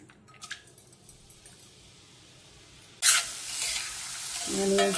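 Onions drop into hot oil for a mutton liver curry, bursting into a loud sizzle after a quiet stretch of faint kitchen clatter, then frying steadily as the hiss swells.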